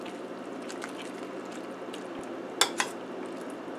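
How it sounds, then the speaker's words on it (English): A spoon stirring cooked pinto beans in a pressure cooker, soft wet scraping with a couple of sharp metallic clinks near the end, close and without talk. "So now I'm going to just give it a stir."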